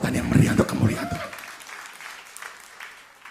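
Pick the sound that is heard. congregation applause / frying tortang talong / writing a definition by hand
congregation applause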